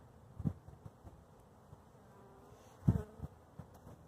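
Honey bees from a newly installed package buzz faintly nearby in a soft, low hum, with two brief louder thuds.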